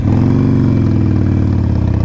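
A Harley-Davidson Iron 1200 Sportster motorcycle rumbles steadily while riding, its deep, loud engine throb continuous and close throughout.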